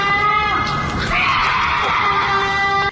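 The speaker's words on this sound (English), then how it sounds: "This horrifying sound, according to its uploader, is a cougar mating call" A cougar's mating call rings out as a loud, sustained shriek, harsh and tonal like a woman screaming, holding strong for nearly three seconds before it cuts off abruptly.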